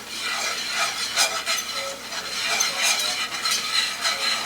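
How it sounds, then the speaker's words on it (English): Gravy being stirred in a pot on a stove, a spoon scraping in repeated broad strokes with a soft sizzle underneath, close and steady with no talking. "let's give this a stir"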